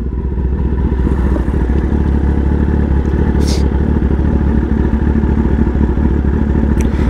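A Kawasaki ZX-10R sports bike idles and revs with launch control engaged, a loud, steady, throbbing engine drone close to the microphone, held for the whole stretch.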